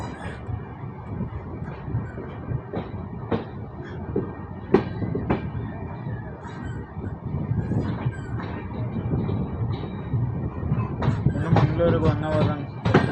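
The 16515 Karwar Express passes on the Bisle Ghat line between Yeshwantpur and Mangalore, wheels clacking over rail joints with sharp metallic clicks that grow denser and louder toward the end, under a rumbling roll and some background voices.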